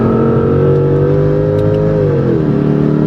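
Mercedes C55 AMG engine revving loud and steady, a rich mid-range drone whose pitch bends and eases slightly toward the end, with no talking.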